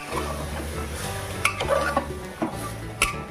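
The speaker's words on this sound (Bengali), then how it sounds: "বেশ কিছুক্ষণ আমি হালকা হাতে নাড়িয়ে চাড়িয়ে নিলাম।" Mutton stirred gently in a pot, a low steady sizzle beneath several soft scraping strokes and occasional light clinks of a spoon against the pot.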